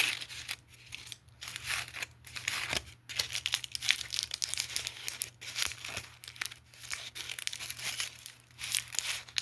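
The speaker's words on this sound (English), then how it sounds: "They're saying like foil is really good for ASMR, so if you guys like some foil." Foil-like material is crinkled and crumpled close up for ASMR, a dense run of crisp rustles and crackles that keeps pausing and resuming, with no talking.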